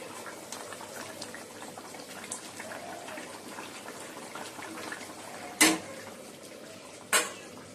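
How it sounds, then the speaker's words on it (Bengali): Fish curry with potatoes bubbles gently in a pot, a soft continuous simmer broken near the end by two sharp clanks of a utensil against the pot. "এই যে বন্ধুরা, মাছের ঝোল দেখো ফুটে গেছে, আলুগুলো সেদ্ধ হয়ে গেছে"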